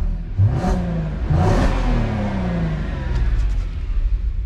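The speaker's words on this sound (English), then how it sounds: "I'll give it a few more revs before I do that." A VW Golf R32 engine is revved hard twice up close, each rise and fall rumbling loudly, followed by a softer throttle blip and a steady idle, with no one speaking.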